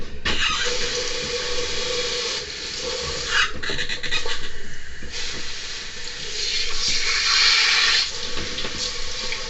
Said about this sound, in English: Get my face rinsed off here with some cool water.